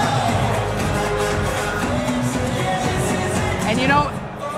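MMA arena crowd at a CAGE 54 event roaring and cheering for a fighter: a dense, steady wall of distant voices and whoops at constant loudness, dropping off suddenly near the end.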